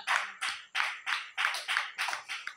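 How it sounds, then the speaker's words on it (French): A congregation claps for the Lord at a church service, about nine steady, fairly close claps in an even rhythm with no talking over them. "Applaudis pour le Seigneur."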